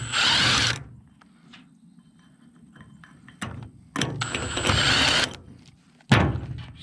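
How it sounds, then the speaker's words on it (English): A small impact wrench fitted with a thin wall chrome socket drives bolts on a lawnmower idler pulley in loud rattling bursts, three short runs separated by quiet gaps with faint clinks. "this is a project for a thin wall chrome socket on your little impact"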